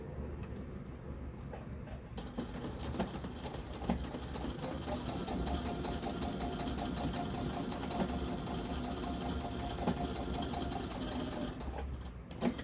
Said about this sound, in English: we're going to sew that into place.